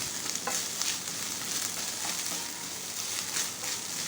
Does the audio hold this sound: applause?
no